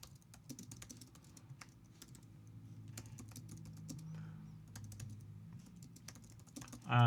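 Rapid, uneven keyboard typing with clicky keystrokes, fairly close, over a low background hum, ending in a brief louder bump.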